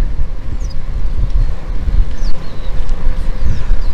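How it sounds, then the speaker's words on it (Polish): Strong, icy wind buffeting a cyclist's microphone on a ride around Biebrza National Park, Podlasie, a steady low roar with gusts throughout, with faint high bird calls above it. "Nie spodziewałem się takiego wiatru, muszę powiedzieć"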